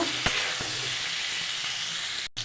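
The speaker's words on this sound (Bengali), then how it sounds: "লবণ হলুদ দিয়ে দিয়েছি ভালো করে একটু ভেজে নেব" Potatoes fry in hot oil with salt and turmeric, giving a steady, close sizzle with a few sharp crackles and stirring clicks, ending in a brief cut-out.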